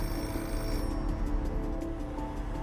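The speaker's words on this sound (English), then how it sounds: "Shortly after midnight, the phone rings in the home of W. Ashraf" Dramatized telephone ringing in a London home shortly after midnight, heard as a steady ring with a continuous, dense mid-level bed of sound under it and no talk.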